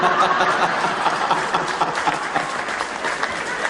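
A crowd at a Hindi comedy poetry show applauds after a joke, a loud, close burst of clapping mixed with a few scattered chuckles, running a few seconds without speech.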